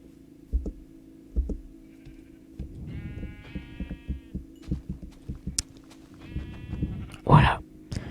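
In a Minecraft game, a sheep's bleats come through twice at moderate distance, separated by quiet gaps and soft game clicks, with a brief breathy whisper near the end.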